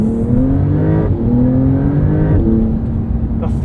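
A 2022 Porsche 911 Carrera with PDK gearbox accelerates hard, its engine note climbing in pitch through three rising sweeps separated by quick gear shifts, loud and close from inside the cabin.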